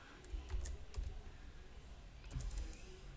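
Soft keyboard typing in short bursts of clicks, quiet and close, with pauses between runs of keystrokes while a title is entered into a citation form.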